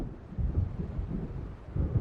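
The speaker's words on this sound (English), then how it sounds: "It seems there's a storm coming." Low, heavy rumbles of thunder from an approaching storm in the game Alan Wake, rolling in two or three swells that rise and fade over a steady hiss of wind, fairly distant and with no voices.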